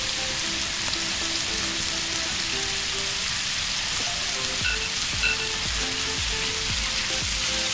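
Steak sizzles and spatters loudly in a hot pan with garlic added, a constant crackling fry with scattered pops and a few soft utensil knocks, no talking.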